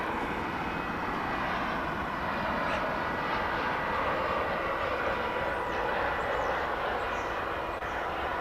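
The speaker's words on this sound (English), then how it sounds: "And that was an American flight coming in from Silao in Mexico." An American Airlines jet arriving from Silao, Mexico, heard as a continuous loud, close engine roar that holds steady throughout.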